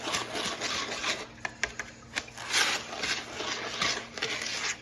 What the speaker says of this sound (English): We're going to whisk it together just to combine.